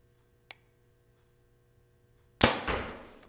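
Darton TriTech 33 compound bow releasing an arrow: a faint click, then one sharp, loud shot with a broadband crack that decays over about a second, heard alone.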